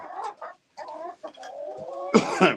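Backyard chickens clucking in their coop: a handful of short, close calls with brief pauses, then a louder, busier burst of clucking near the end, with no talking.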